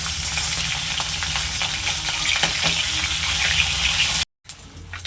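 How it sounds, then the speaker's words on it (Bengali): Pieces of katla fish sizzle steadily in hot oil in a pan, a loud, continuous frying hiss that runs alone and briefly cuts out near the end before resuming. "নিচের পিঠটা সামান্য একটু ভাজা হলে উপরের পিঠটা ভাজার জন্য মাছটা উল্টে দিচ্ছি।"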